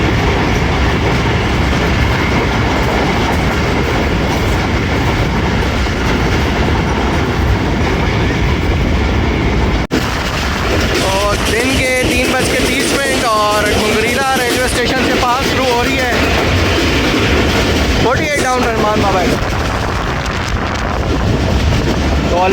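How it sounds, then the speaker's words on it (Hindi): The Rehman Baba Express passes through Kaluwal station on the Rawalpindi to Faisalabad line, a loud continuous rumble of rail cars with clattering wheels, heavy wind buffeting and brief squeals as the train rushes by. "अब कालूवाल में ट्रेन मंदरा पास थ्रू कर रही है 48 डाउन रहमान बाबा एक्सप्रेस।"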